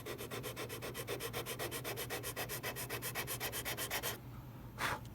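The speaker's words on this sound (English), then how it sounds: "And then I can take the sanding block" Rapid, steady back-and-forth scraping of a sanding block squaring a wood edge, close up, stopping abruptly before one last brief stroke.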